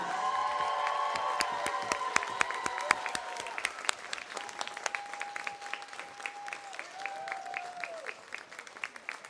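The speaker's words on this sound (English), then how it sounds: "How about a big round of applause for our second place Brooking Rangers?" Crowd applause for the second-place Brooking Rangers girls' varsity hockey team at a championship game on ice, clapping and a few cheers in an echoing rink while long whistle-like tones sound over it.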